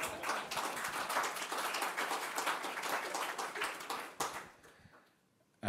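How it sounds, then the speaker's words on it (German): Audience at a German political panel discussion applauds in a dense, even patter of many clapping hands, quiet and distant, tapering off and stopping near the end. "Dafür verdient er mehr Applaus."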